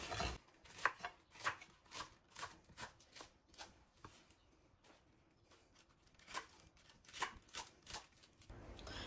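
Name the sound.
chopping food with a knife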